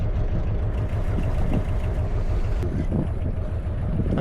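A small canal boat's engine drones steadily and loudly nearby, with a low throbbing rhythm and wind buffeting the microphone throughout.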